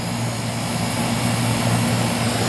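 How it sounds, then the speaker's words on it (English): A 1993 5-ton Heil air conditioner compressor runs with a constant, loud, droning hum and broad whooshing noise, steady throughout with no variation. "I mean, you can hear the compressor."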